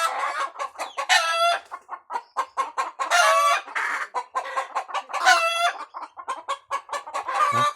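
Chickens cluck in rapid, overlapping bursts close by while a rooster crows three times, long drawn calls rising above the busy farmyard clatter, with no talking.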